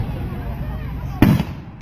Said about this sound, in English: these fireworks started exploding and the pieces of fireworks are flying at us